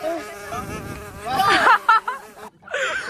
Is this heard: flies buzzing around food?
yes